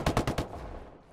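A rifle shot from a sniper in the PvP beta of Ghost Recon Wildlands cracks out as a quick burst of sharp reports, then decays into fading ambient noise; short and moderately loud.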